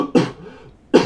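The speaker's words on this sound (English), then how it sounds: "I hope that cough's not annoying" Two sharp coughs about a second apart during a Madden 19 gaming session, close and fairly loud with a quiet pause between them.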